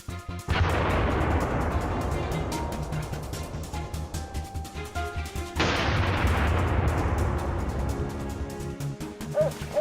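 A gunshot aimed at a wild boar cracks through a forest, followed by a long rumbling decay, then a second loud report near the middle with another fading rumble; steady low background throughout, no talk.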